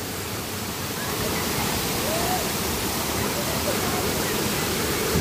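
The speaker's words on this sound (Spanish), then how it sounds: "Toda la caída de aguas, el ruido, el estruendo" The largest waterfall at Apatlaco, Puebla, roars as a steady, dense wash of falling water that stays loud and unbroken throughout.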